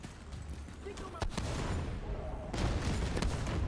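Fireworks burst in The Division 2, a rapid string of sharp crackling pops and booms that comes in clustered volleys, with a louder flurry near the end and voices talking over them.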